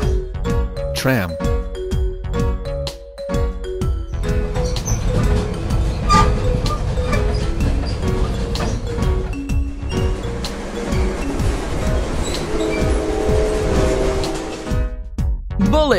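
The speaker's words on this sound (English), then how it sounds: "Tram." A red tram rolls along the rails with a rumbling, continuous running noise while its bell rings out in clear dings, mixed with background music.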